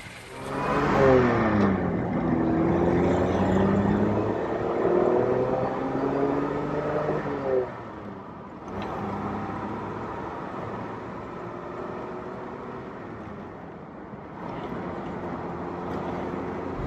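A 1950 Jaguar Mark V with a 3.5-liter engine drives on the road on a windy day, heard from inside with the top up: engine tone rising and falling through gear changes over steady road rumble.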